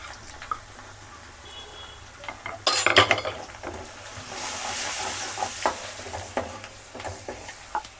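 Malvani masala sizzling in a pan for a crab dish, with a sharp burst of frying as ingredients hit the hot oil and a spoon scraping and clinking against the pan while it is stirred.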